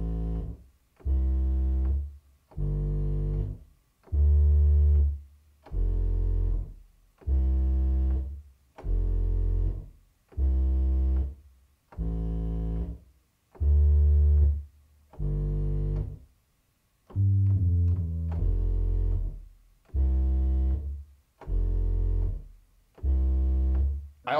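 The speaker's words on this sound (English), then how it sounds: "So this is another bass sound that I found in Omnisphere" Omnisphere synth bass plays sustained notes that follow a chord progression in a sad lofi beat, with a short fill partway through. The phrases are regular, and each note stands alone with a clear gap before the next.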